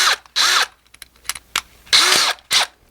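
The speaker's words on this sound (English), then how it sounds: "We're going to countersink this very slightly so that the screw is recessed in and it doesn't stick up." Power drill countersinking screw holes in a wooden shelf, several short whirring bursts of varying length with brief pauses between them, close and loud.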